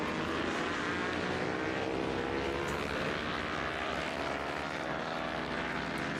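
A Honda 250 Moto3 race motorcycle pulls away on the clutch for a warm-up lap at a Kirkistown road race, a loud, sustained engine roar with racing noise filling the whole stretch, no talk.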